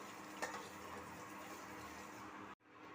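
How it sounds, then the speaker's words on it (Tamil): Sugar syrup for peanut candy boils steadily in a pan over medium heat, a dense, even bubbling hiss that cuts out briefly near the end and then resumes. "பாகு நல்லா கொதிக்குது. மிதமான தீயில தான் வச்சுருக்கேன்."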